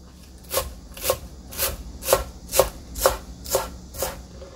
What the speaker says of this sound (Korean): 부추는 이렇게 좀 1cm 정도 이렇게 썰어주면 돼요